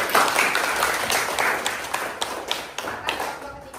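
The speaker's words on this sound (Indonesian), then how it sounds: "Mari kita beri aplaus untuk mereka." An audience claps for a student group in a classroom presentation, a dense patter of hand claps that gradually thins out, with a voice briefly heard under it.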